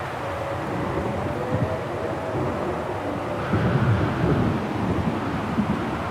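A stormy night in the video game Syberia: The World Before brings a continuous low rumble of wind and rain, with deeper thunder-like swells building near the end.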